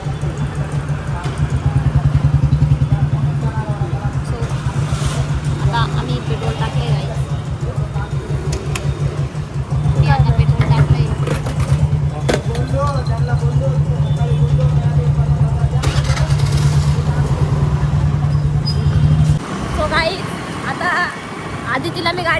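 A two-wheeler engine idles and runs steadily with a low, throbbing hum beneath frequent talking and roadside noise, stopping near the end.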